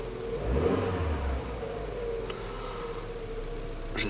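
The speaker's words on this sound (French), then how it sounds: "On va faire une accélération." A Peugeot 306 XS 16-valve engine revs up sharply from idle, then settles into a steady mid-pitched drone, close and fairly loud.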